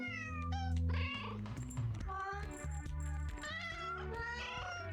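Several cats meow and yowl in a heated cat fight, with loud, drawn-out wails overlapping one after another and a tense caterwauling quality throughout, no talking.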